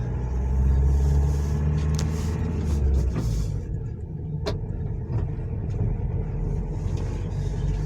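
A Volynyanka vehicle's engine runs with a loud, steady low rumble as it drives, the tone dipping slightly midway with a couple of faint knocks.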